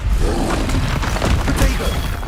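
Confringo blasting spell explosions in the video game Hogwarts Legacy, a dense continuous roar of booming blasts and crashes with a voice calling out over it.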